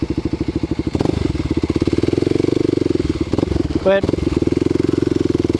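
A Kawasaki KLX250 supermoto rides off-road through tall grass. The engine chugs steadily and close with a rapid pulsing beat, dips briefly mid-way, and runs under a short spoken word.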